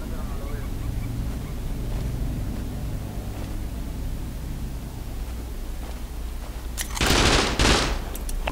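Distant gunfire crackles in the survival game Rust over a steady low ambient rumble, a short burst of shots standing out loudly near the end.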